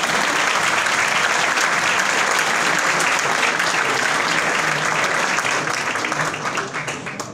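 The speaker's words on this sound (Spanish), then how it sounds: "Fuerte el aplauso para ellos." Loud, dense applause from the audience at a film festival award ceremony in Mar del Plata, continuous clapping that holds steady and then begins to thin out near the end.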